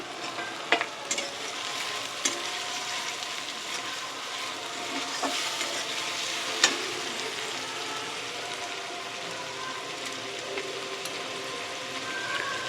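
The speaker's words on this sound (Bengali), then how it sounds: "দিয়ে খুব ভালো করে মশলাটা কষিয়ে নেব" Tomato frying in spiced masala for rohu fish kalia gives a steady, close sizzling hiss, with scattered pops and occasional spatula knocks running throughout.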